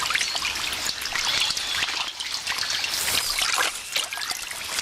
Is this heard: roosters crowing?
no